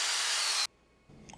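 A loud, steady burst of power sanding on a wooden square platter lasts about half a second, then cuts off abruptly, leaving quiet faint rustling.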